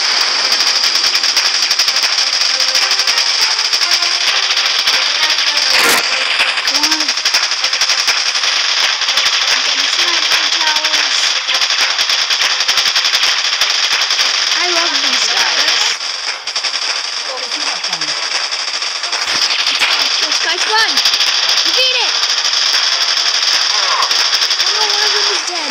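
Sustained automatic gunfire from the Boom Beach strategy game, loud and nearly continuous with dense rattling bursts throughout, overlapping other battle effects.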